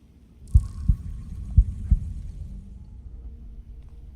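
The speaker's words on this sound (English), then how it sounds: "Hear my damn heart beating." A heartbeat in the video game The Thaumaturge: four deep, heavy thumps in two quick pairs over a low droning hum, then the hum carries on alone.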